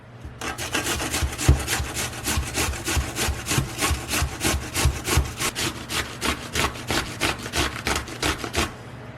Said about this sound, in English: I'm going to grate that cucumber.